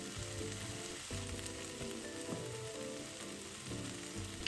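Minced meat filling stir-fried in a wok with sesame oil and fresh red chilli, a loud, steady sizzle running throughout with repeated scraping strokes of the spatula, no voices.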